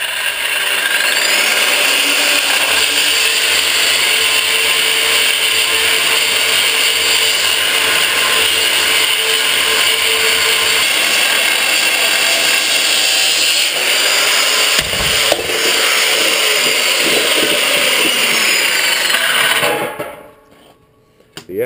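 A power sander grinds steadily against the weld areas of a steel propane tank for about twenty seconds, loud and close, with slight shifts in pitch before cutting off abruptly.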